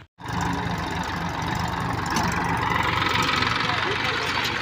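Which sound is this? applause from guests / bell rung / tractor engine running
tractor engine running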